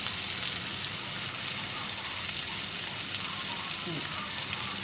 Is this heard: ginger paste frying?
yes